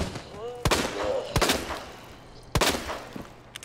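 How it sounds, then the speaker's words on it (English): Gunshots in the game Resident Evil 2, several sharp, loud reports spaced irregularly, with a voice and tonal game sounds in between. "How many times do I have to shoot this one specific guy?"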